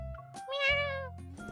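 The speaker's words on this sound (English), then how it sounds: "a cat's meow makes me jump from the bed" A cat meows once from a balcony, a clear, close, rising-and-falling cry lasting under a second, with soft background noise around it and no talking.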